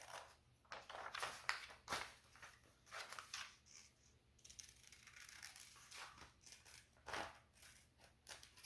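Scissors snip through paper to cut out small paper pictures, a quiet, close series of irregular crisp snips and rustles, with short pauses between the cuts.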